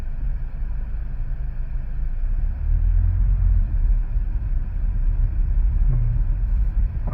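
A driving school car pulls away once its brake is released: a close, steady low engine rumble that thickens and swells a few seconds in, then settles as the car rolls on.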